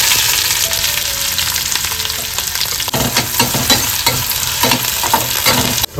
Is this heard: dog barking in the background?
no